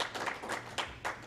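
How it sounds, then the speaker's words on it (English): Applause from a conference audience at an annual gathering on economic, social and cultural rights, a steady patter of many hands clapping in short swelling bursts, fairly faint and at a distance. "A round of applause"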